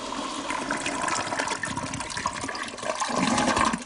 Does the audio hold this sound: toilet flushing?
yes